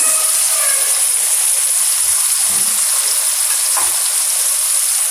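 Corn, green onion, capsicum and vegetables stir-frying for Chinese-style rice, a loud, continuous, close sizzle with a few brief scrapes of stirring and no talk.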